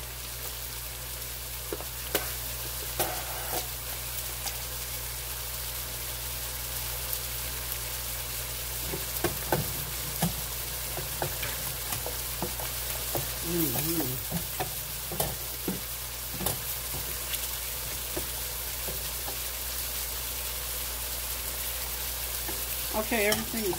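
Shrimp, mushrooms and tortellini stir-fry in a skillet with a soft, continuous sizzle, while occasional scrapes and clinks of stirring come through close by; no one speaks.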